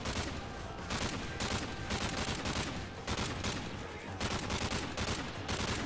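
Gunfire in the video game Modern Warfare 3, with a sniper involved: dense, loud volleys of rapid shots come in repeated bursts of about a second each, separated by short gaps, with no voices over them.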